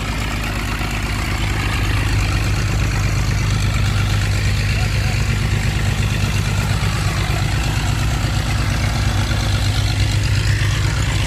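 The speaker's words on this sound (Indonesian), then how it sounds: "Sangat berisik sama mesin air, mesin penyedot air tuh di sana tuh." A water suction pump engine runs steadily near rocky ground, a loud, constant low mechanical drone that does not let up, with someone talking over it.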